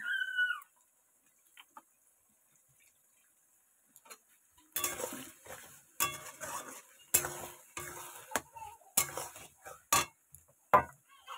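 A paste of ground cumin, ginger, garlic and dried chilli is stirred in a pan. After a few quiet seconds, a series of close clattering scrapes and metallic clinks of a spoon against the pan follows in uneven bursts.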